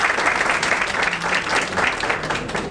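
Loud, dense applause from a large audience at a lecture on the history of urology, steady and continuous throughout, close and filling the room.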